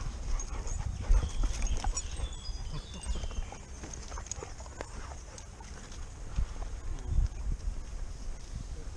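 Dogs play in the woods, with panting, scuffling and footfalls on leaf litter close by, moving around continuously, and faint human voices in the background.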